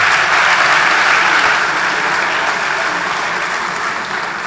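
Conference audience at an iRedes panel applauding a speaker, a loud, continuous wash of many hands clapping that tapers slightly toward the end.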